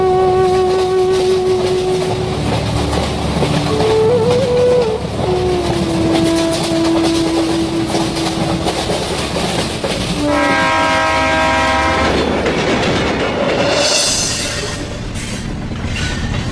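Cartoon-style train sound effect: steady rolling clickety-clack of rail cars, then a loud multi-tone horn blast, followed by squealing and hiss as the train arrives at the station.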